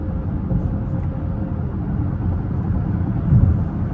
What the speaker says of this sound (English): you hear the road a little bit, you can hear the expansion joints